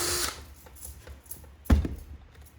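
A drill whirs briefly and unevenly as it bites into the hard outer surface of an antler, quiet overall, with a sharp knock partway through.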